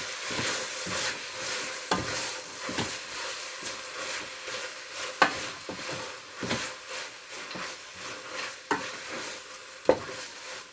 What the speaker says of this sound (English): Then I'm gonna stir the meat with the spaghetti.